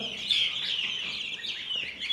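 Chicks chirping and hens clucking in a coop of Asil (Hint) chickens, a constant high peeping chorus at moderate level close by, with no talk.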